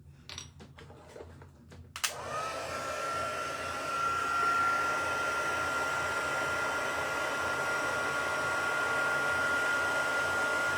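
After a few clinks of small craft items, a heat tool switches on with a click and settles into a steady, loud blowing hiss with a thin whine as it warms embossing powder on a stamped card.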